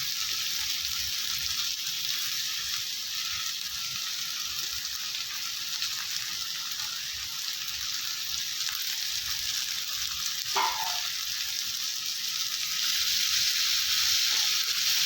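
Chopped tomatoes and grated bottle gourd sautéing together in a pan for a vegetable chutney, giving a steady, even sizzle that holds for the whole stretch with no talking.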